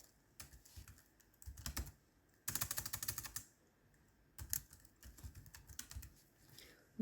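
Bursts of typing on a computer keyboard, with fast clustered key clicks in several runs separated by short pauses, close and fairly quiet, with no voices.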